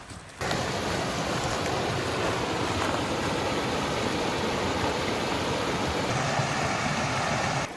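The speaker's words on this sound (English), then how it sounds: "I think we found another waterfall." Another waterfall in the Montana backcountry pours as a loud, continuous rush of water, close and unbroken after a brief quiet start, with no talking over it.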